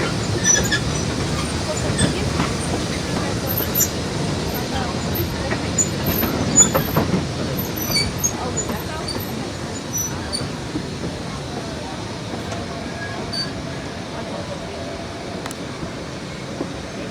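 West Side Lumber Shay #9 steam locomotive runs on the Georgetown Loop Railroad, a steady rumble and clatter of wheels on track with faint squeals, continuous and fairly loud.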